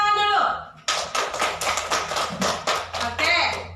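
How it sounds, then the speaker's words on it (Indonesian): Students in an Indonesian classroom lesson clap together in a brisk, rhythmic burst of claps close by, following a voice at the start. "Tepuk tangan dulu."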